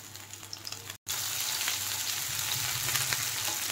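Corn methi kebabs, a second batch, crackle and sizzle steadily in hot oil up close, with a brief drop to silence after the first second before the dense frying hiss resumes.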